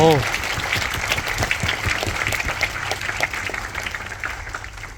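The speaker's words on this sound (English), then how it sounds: "we should give the Youth Task Force a big round of applause" Audience at the NTUC Youth Symposium applauds the Youth Task Force, sustained crowd clapping of steady density that fades slightly toward the end.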